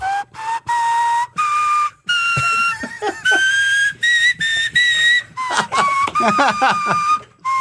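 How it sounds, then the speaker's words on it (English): A person whistles a lively, melodic tune up close, with short bright phrases and brief pauses between them, alone with no talking. "He really can whistle good."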